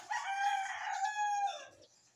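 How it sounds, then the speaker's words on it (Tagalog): A rooster crows once in a long, rising then falling call lasting about two seconds, fairly close and clear at a rural provincial home in the morning, with no other sounds around it. "Mga manok."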